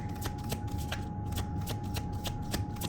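Tarot cards are shuffled close by in quick repeated riffles, a soft crisp flutter that repeats rhythmically, with no talking.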